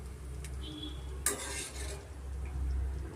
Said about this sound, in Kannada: ಈಗ ನಾವು ಕೊನೆಯಲ್ಲಿ ಅವಲಕ್ಕಿನ ನಾವು ಎಣ್ಣೆಯಲ್ಲಿ ಫ್ರೈ ಮಾಡ್ಕೊಬೇಕಾಗತ್ತೆ